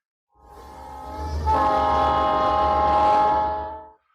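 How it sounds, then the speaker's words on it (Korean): A train whistle sounds one long, loud, steady blast with a deep rumbling undertone as the train begins moving off slowly, swelling in and then cutting off after about three and a half seconds. "기적을 울리며 열차가 천천히 움직이기 시작했다"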